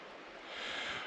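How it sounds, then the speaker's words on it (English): Water flows outdoors on a still winter hike, a steady, broad rushing hiss that swells slightly over a moment, with no other sounds. "just the noise of the water, and today there's just no other wind whatsoever"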